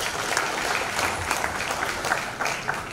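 A church congregation applauds at a Christmas service with a musical drama. The clapping is dense and sustained, with individual claps popping out now and then across the steady wash.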